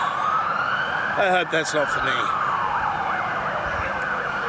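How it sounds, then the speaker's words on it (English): An ambulance siren wails loudly as it passes, its sweeping tone rising and falling throughout, while a person speaks briefly over it midway. "the ambulance isn't for me"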